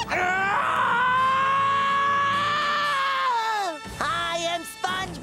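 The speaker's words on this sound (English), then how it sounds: "A classic screaming SpongeBob moment." An AI-generated horror version of SpongeBob lets out a long, loud, sustained scream lasting several seconds, then breaks into shorter strained cries and groans.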